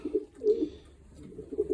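Young pigeons coo softly and closely in low, rolling bursts, a few murmured calls spread across a quiet moment.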